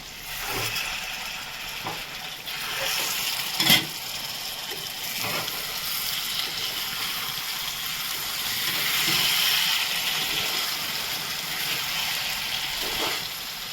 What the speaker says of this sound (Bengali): এখন আমি ঢাকনটা তুলে নেব। আমি নেড়ে দেবো।